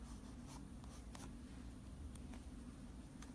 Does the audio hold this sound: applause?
no